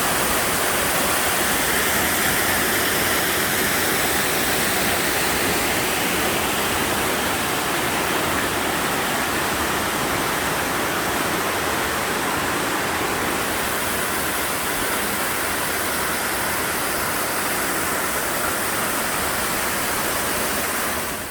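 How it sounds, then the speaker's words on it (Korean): A powerful, very tall waterfall, Yeonsan Falls in Korea, roars continuously and loudly, a dense steady rush of falling water with no breaks. "영상으로 보는 것보다 훨씬 더 높은 폭포인데요."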